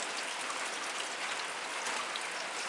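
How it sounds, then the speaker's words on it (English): Steady rain patters down outdoors on a farm, a soft, even hiss of drops falling on surfaces with no other sounds. "It's raining, you guys."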